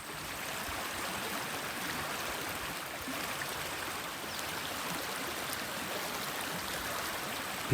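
Creek water flows steadily and evenly for the whole stretch, a continuous close rushing babble with no voices and no breaks, during a bush walk in Australia.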